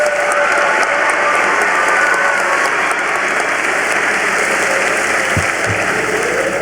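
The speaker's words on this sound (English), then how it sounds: "I'd like you to give another round of applause to the beautiful choir and band tonight." Sustained applause from a large crowd at an outdoor high school graduation ceremony for the choir and band, a dense, even roar of clapping that holds steady throughout.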